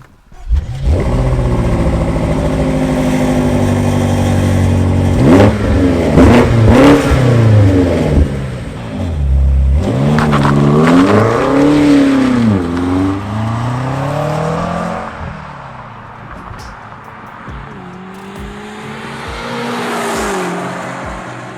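A BMW M8 Competition Gran Coupe (F93) launches and accelerates from 0 to 100 km/h, its engine roaring loudly up through several gear changes with a dip at each shift before easing off.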